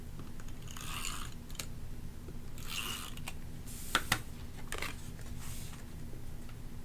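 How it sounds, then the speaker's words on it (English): Paper crafting with a tape runner laying adhesive onto paper: a few soft, quiet rolling swipes and light rustles of handled paper, with a couple of sharper clicks near the middle, no talking. "we're just going to place it down using a tape runner"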